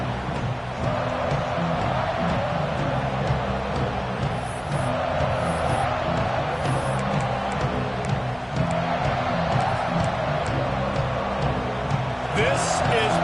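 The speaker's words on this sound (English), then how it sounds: "This crowd ready to make its presence known." Stadium crowd roaring steadily in College Football 26, a UCLA home game, a dense continuous wash of cheering throughout with swells near the middle and end, layered under game sounds and commentary.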